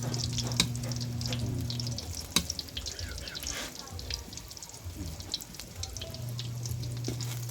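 Hotdogs frying in a pan for a provincial breakfast, a soft continuous sizzle with scattered pops and crackles and one louder clack, under a faint low hum that comes and goes.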